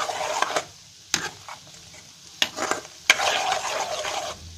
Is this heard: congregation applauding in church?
no